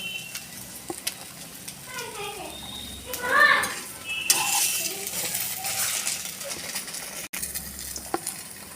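Fried flattened-rice (chira) snacks are lifted from a pan of hot oil, with soft sizzling, scraping and metallic clinks of a utensil against the pan, and a brief sharper clatter near the middle.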